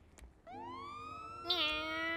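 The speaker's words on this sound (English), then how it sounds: "How do I turn on the siren?" Police siren on a golf cart in the GTA video game rises in a steady wailing tone, then jumps to a higher, brighter pitch partway through, moderately loud over faint background noise.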